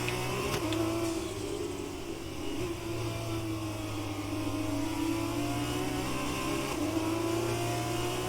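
A race car engine in F1 2020 at Silverstone holds a steady, loud high drone with slight pitch shifts as the car drifts for grip, running continuously with no talk.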